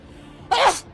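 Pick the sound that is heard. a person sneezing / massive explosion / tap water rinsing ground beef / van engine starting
a person sneezing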